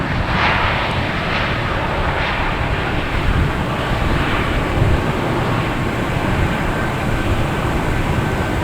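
A JetBlue airliner bound for Cleveland moves past at Boston Logan Airport, giving a continuous loud jet rumble and rush that swells slightly partway through, with no speech.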